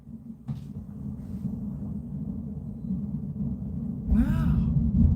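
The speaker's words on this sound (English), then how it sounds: "Oh, mate, there's thunder." Low thunder rumbles steadily through the whole stretch, swelling louder near the end, with a brief voice breaking in toward the close.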